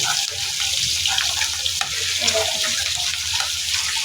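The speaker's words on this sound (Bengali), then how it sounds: "এখন দিয়ে দিবে পানি।" Water poured into a pan of fried onions while cooking a cauliflower and fish curry, a steady rushing splash with soft sizzling throughout.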